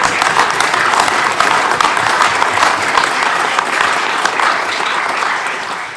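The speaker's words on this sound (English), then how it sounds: "That's worth a round of applause," Audience applause at a mayor-making ceremony, a dense, steady wash of many hands clapping that stays loud and even for the whole stretch with no talk over it.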